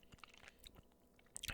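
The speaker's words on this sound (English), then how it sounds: "This is crunchy praline. I'm expecting crunchier." Crunchy hazelnut chocolate praline with crispy wafer in creamy white chocolate is chewed close to the mic, soft irregular crunches and bites building to a louder burst of crackling near the end.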